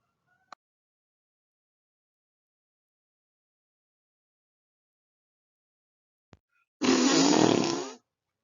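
A cartoon-style whale fart sound effect: one loud, broad, rumbling blast just over a second long, heard alone after near silence broken only by a couple of faint clicks.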